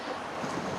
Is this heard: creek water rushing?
yes